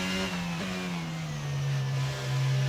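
Engine of an F1 car in the F1 22 racing game, failing and smoking, holds a steady mid-pitched drone that sags slightly lower as it runs, continuous and fairly quiet with no talk.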